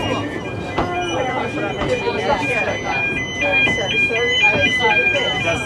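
A train running into a station on a holiday rail journey in Wales, with steady rolling rumble, squealing wheel and brake tones and faint signal-like beeps, while people talk over it.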